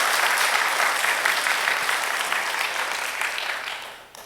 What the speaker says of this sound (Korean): 다시 한번 박수 한번 해주세요.